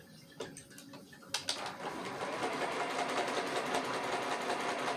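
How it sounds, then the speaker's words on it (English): A sewing machine stitches down a flipped fabric piece: a few sharp clicks and handling taps, then the motor starts and runs in a steady, close mechanical whir until the end. "Now I'm going to flip that over and sew that piece down."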